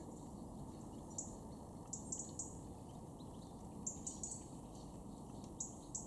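Small birds chirping outdoors, brief high tweets scattered every second or so over a steady hiss of background ambience, distant and faint with no voices.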